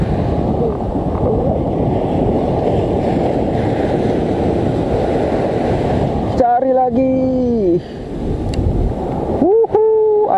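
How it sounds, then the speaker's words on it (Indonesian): Strong wind sweeps across a sea shore during casting from the water's edge, a dense steady rush of gusts and surf noise that drops out briefly, with a few short spoken words cutting in near the end. "Angin kencang."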